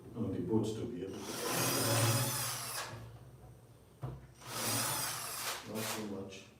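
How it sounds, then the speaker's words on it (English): A power drill drives bolts into the wooden cabinet of an 18-inch subwoofer, with two loud bursts of whining motor and rising pitch, close to the listener, separated by a short pause with handling noise. "That's just for the drill on the bolts to be able to."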